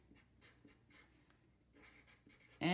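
A pencil writes on paper during an art lesson, a soft, steady scratching of short strokes close by, ending with a sudden louder noise.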